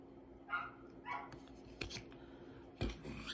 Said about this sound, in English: And the dog barking in the background,